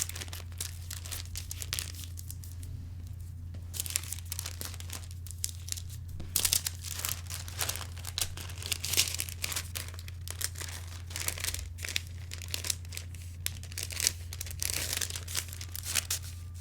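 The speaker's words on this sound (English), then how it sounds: "I'm stabilizing the 2 layers of paper before I fold." Two layers of pattern paper crinkle and crumple in bursts of handling while being stabilized for folding, close and fairly soft, over a steady low electrical hum.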